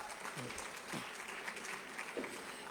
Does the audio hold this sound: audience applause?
yes